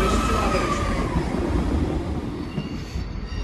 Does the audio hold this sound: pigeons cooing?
no